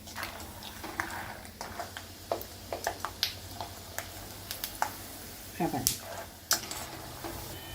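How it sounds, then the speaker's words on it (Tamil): Sharp little pops and crackles burst irregularly from hot oil as peanuts deep-fry for Madras mixture, scattered over a steady low background hiss. "இது நல்ல ஒரு படபடன்னு சத்தம் வர வரைக்கும் இதை நம்ம ஃப்ரை பண்ணி எடுத்துக்கணும்"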